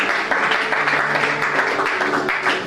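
A church congregation applauds loudly and continuously, a dense wash of many hands clapping together that holds steady from start to finish.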